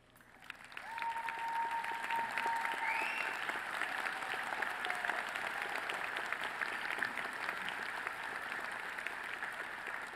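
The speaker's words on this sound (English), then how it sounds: "Parents of our candidates, please stand and receive our applause." Applause from a commencement audience at a Lamar University College of Business ceremony, honoring the graduates' parents: sustained, even clapping from a large crowd that swells in after about a second and holds steady, with a faint tone drifting over it.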